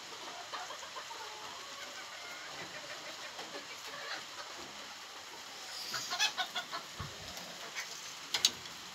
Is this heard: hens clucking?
yes